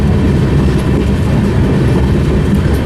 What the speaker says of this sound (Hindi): अभी आप वैसा ही एक एल्को लोकोमोटिव देख सकते हैं। BSP 664 लिखा हुआ है।